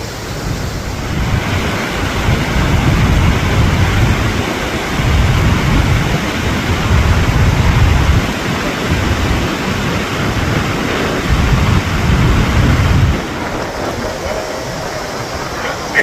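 The Iguazú waterfalls roar in a loud, continuous broadband rush with gusty wind buffeting the microphone, close and steady throughout.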